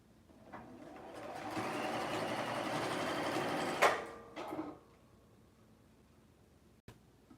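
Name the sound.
sewing machine stitching a DIY dress form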